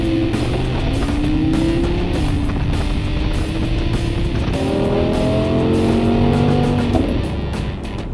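A wide, powerful supercar driven on a road in Switzerland's Black Forest, heard from inside as a loud continuous engine drone rising and falling through gear changes, no talking.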